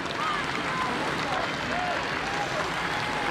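A riverside crowd at the Henley regatta applauds and cheers the scullers, a steady wash of distant clapping, while a commentator talks over it.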